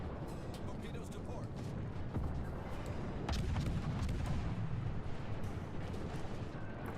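Warship gunfire in World of Warships echoes as deep booms under steady engine and sea rumble, while a voice speaks over the noise.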